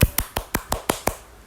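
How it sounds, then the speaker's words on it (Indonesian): Seven crisp hand claps in a steady, quick rhythm, each a sharp close slap with a short tail, evenly spaced over about a second and a half with no talking. "kita tepukkan"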